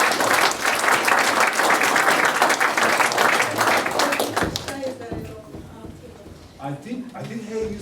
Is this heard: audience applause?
yes